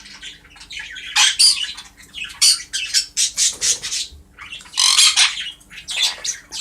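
Pet birds in an indoor bird room give loud, repeated harsh squawks in bursts with short gaps, close to the microphone, over a faint steady background hum.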